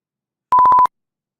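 A single short electronic beep, a steady mid-pitched tone lasting about a third of a second, alone in silence.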